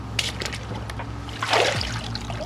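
A short splash of cold water poured onto a plastic bag pulled over a sock and shoe on a hike, one brief, fairly close gush in the middle of a quiet stretch.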